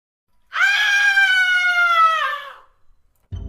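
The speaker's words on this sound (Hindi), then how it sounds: "कुछ ही मिनटों बाद तेज चीख की आवाज आती है।" A loud, sustained scream from a Hindi cartoon horror story rings out for about two seconds, high-pitched and steady before trailing off, followed by a brief low thump.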